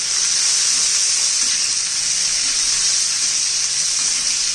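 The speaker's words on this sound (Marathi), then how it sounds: "लसूण पण भाजून घ्यायचं आहे. छान असं तेलात तळून घेऊया." Green chillies and garlic fry in hot oil for a spicy cluster-bean thecha, making a loud, continuous close-up hiss and sizzle with no break and no talking.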